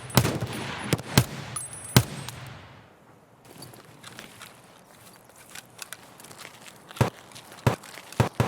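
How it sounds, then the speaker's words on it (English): Sniper Scav rifle fire in the shooter game Escape from Tarkov: sharp separate shots, several close together at the start and a spaced cluster near the end, with quiet footsteps and ambient rustle between. "Right, Sniper Scav is shooting at someone."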